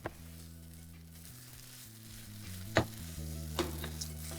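Flat beans (sim) dry-cook in a pan for a mashed bean dish, giving a soft sizzle over a steady low hum, broken by a few sharp scrapes and clinks of stirring.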